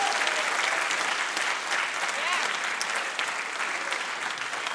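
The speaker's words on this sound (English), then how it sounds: "So guys, big round of applause." An audience at a startup demo day applauds steadily and densely, a continuous clapping crowd filling the room with light cheering.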